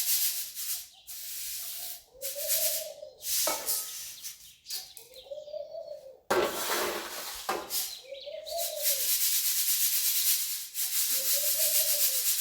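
Pigeons coo repeatedly in low, throaty phrases, each a few seconds apart, with rustling and scraping noises in between.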